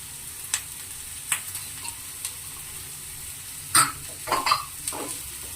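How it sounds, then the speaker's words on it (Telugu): Capsicum and other vegetables frying in a pan: a steady sizzle with intermittent scrapes and clatters as a spoon stirs them, close and clear, with no talking. "ఇవన్నీ కొంచెం ఏగేంత వరకు మనం డ్రై చేసుకుందాము, కలుపుతా ఉందాము."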